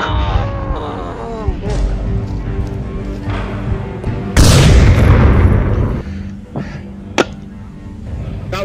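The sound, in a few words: gunfire in the VR shooter game Onward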